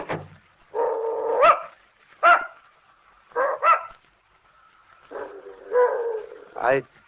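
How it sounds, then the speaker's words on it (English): A dog in an old radio drama gives a string of sharp barks, yips and whimpering whines in separate bursts over about seven seconds, close up and fairly loud, with quiet pauses between bursts. "I don't believe your dog likes me, Mrs. Gillis."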